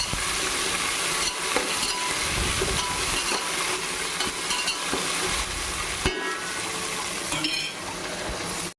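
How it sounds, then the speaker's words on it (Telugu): Tomato, carrot and green chilli pieces frying in a pan for veg pulao, a dense steady sizzle with stirring and scraping strokes, close and loud, no talking. "దాంట్లోకి టమాటా, క్యారెట్, పచ్చిమిరపకాయ ముక్కలు కొంచెం వేసేసి అవి కూడా కొంచెం మగ్గనియాలి"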